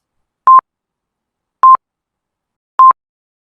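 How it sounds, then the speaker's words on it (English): Three short, clean electronic beeps, evenly spaced about a second apart, with silence between them. "Listen out for these 3 beeps."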